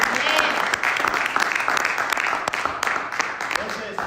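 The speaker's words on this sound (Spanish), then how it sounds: "Vamos a darle un aplauso a Dios." Church congregation applauding during a worship service, dense sustained clapping filling the space for about four seconds, with some voices mixed in.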